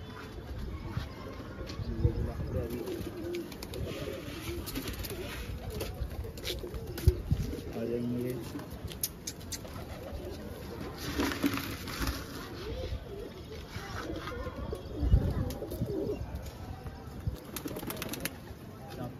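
Soft pigeon cooing in a steady outdoor setting, low murmuring calls repeating under background noise, with occasional wing flaps and faint voices.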